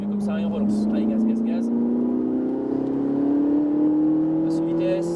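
Ferrari 458 Italia accelerating hard on a race circuit, its engine note climbing steadily and loudly from inside the car, while a voice talks over it.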